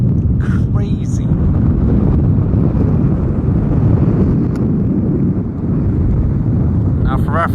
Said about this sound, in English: I'm sure it's gonna be windy as hell anyhow